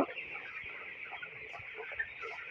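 A flock of 21-day-old broiler chickens on a farm clucks and murmurs softly and continuously, a faint, close chorus of low bird calls with no voices.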